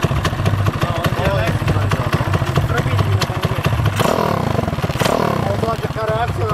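A 50cc moped fitted with a 200cc engine revs hard on the throttle, close and loud, with rapid repeated bursts and a rough, clattering exhaust; someone talks over it.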